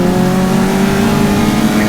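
Caterham Roadsport race cars at Croft Circuit, engines howling loud and constant at high revs, with one or more cars close by throughout.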